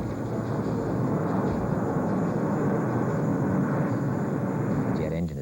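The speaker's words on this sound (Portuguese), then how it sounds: "o motor a jato" Jet engine running at full power, a loud unbroken roaring rush of turbine noise with a faint high whine, ending abruptly.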